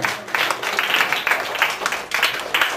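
Students clap together at an award ceremony for school prize winners, producing a dense patter of many hands, close and lively, in uneven bursts throughout.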